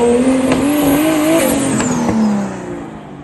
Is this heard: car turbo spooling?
yes